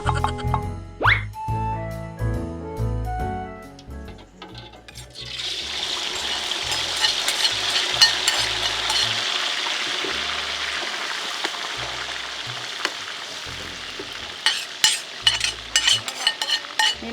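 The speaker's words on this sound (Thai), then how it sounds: "นี่เราทอดแบบโบราณนะลูกนะเราจะไม่ใส่แป้ง" Frogs deep-frying in hot oil with garlic and pepper, old-style without batter, give a loud, steady sizzle and bubbling after a few clanks and stirring sounds at the start, with sharp clicks of utensils near the end.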